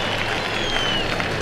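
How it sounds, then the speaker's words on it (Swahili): A crowd of spectators at a KDF air show applauds after a parachutist lands, steady clapping that holds at an even level from a distance for the whole moment. "Tuongeze makofi wananchi tafadhali."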